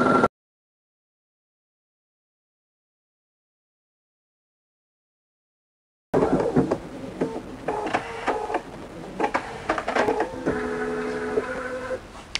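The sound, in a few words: embroidery machine with Inspira cutwork needles cutting fabric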